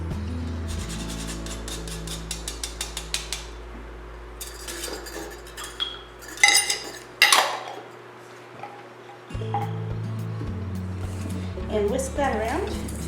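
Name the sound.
whisking salt and nutmeg into buckwheat flour in a bowl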